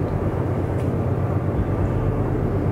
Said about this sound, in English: we'll just wait for the train to leave